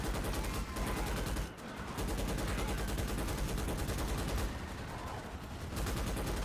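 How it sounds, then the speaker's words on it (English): An automatic turret in the Starship Troopers Extermination game hammers out rapid, evenly spaced bursts against bugs, loud and close, with two brief pauses in the stream of fire. "Got my trusty turret."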